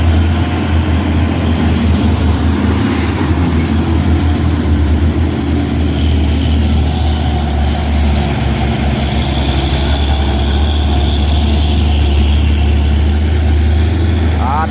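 Heavy trailer trucks grind along a steep hill road at Bukit Kodok at dusk, a loud steady low engine drone that stays close for the whole stretch as another trailer passes going the other way.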